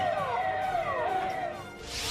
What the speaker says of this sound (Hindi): इस दौरान फायर ब्रिगेड की गाड़ी और स्वास्थ्य विभाग की एम्बुलेंस सायरन बजाते हुए पहुंच गई